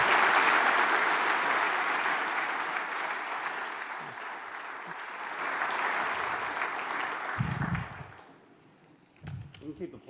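Audience applause at the AMOS 2023 conference opening, loud sustained clapping from a large crowd that gradually fades, ending with a few close voices speaking.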